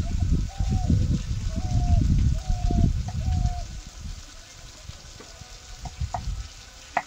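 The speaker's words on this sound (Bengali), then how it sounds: "মশলার সঙ্গে আলুটা কষিয়ে নেব" Potatoes sautéing in a pan with spices, salt and turmeric give a steady frying sizzle with occasional stirring scrapes, while a voice speaks over the first half.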